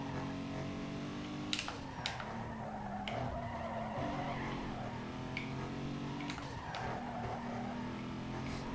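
A Hyundai Tiburon races flat out in Need for Speed Underground 2, its engine note whining up and down beneath repeated tire squeals and skids through the corners, steady and fairly loud with no speech.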